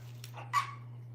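A young French Bulldog puppy gives a couple of brief, faint high whimpers, one slightly stronger than the other, over a steady low electrical hum.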